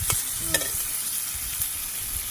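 Spinach greens being fried in oil, a soft continuous sizzle with a few stirring scrapes and clinks near the start, fairly quiet with no talking.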